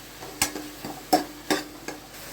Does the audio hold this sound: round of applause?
no